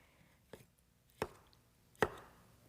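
A knife chops through home-canned tomatoes on a board in three sharp, separate strikes spaced under a second apart, each a crisp close thud in an otherwise quiet kitchen.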